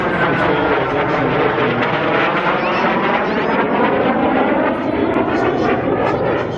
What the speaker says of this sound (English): now flying the Impala Mach 1